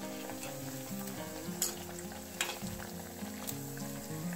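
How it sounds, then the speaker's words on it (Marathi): Maggi noodle snack pieces deep-frying in oil on a medium flame, a steady close crackling sizzle with occasional sharper pops and stirring clicks, no voices. "मीडियम फ्लेम वरती तळले तरच हे छान असे क्रिस्पी होतील"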